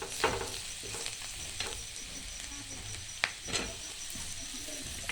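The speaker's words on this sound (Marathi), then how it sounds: "त्यात अर्धा चमचा हळद टाकली आहे पुन्हा एकदा हलवून घ्यायचा आहे" Fried onions sizzle in a pan with half a spoon of turmeric as a spoon stirs them through, steady close frying with a few sharper scrapes and taps.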